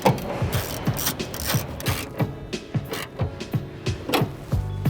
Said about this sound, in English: you're going to tighten down the nut.